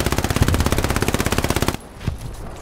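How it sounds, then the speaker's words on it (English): Rapid automatic gunfire in a trench-warfare video game, a loud steady burst of evenly spaced shots for nearly two seconds that cuts off abruptly, followed by quieter game ambience. "Shooting."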